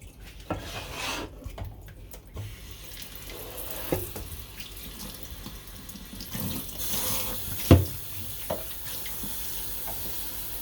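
Warm water runs steadily from a tap into a sink, a continuous hiss and splash with occasional knocks and rubbing sounds, close by, no talking.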